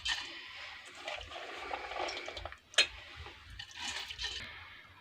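Soaked toor dal is tipped into a cooking pot, with wet splashing and trickling of water and lentils, close up and moderately loud, plus a sharp clink partway through.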